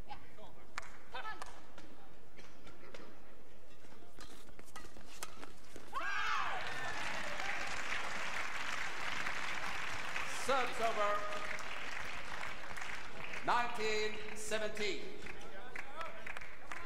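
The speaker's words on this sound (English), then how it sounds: "some encouragement from the crowd to the English pair" Crowd at a badminton match, a mixed doubles final, breaks into applause and cheering that swells midway and surges again near the end, with voices mixed into the steady roar.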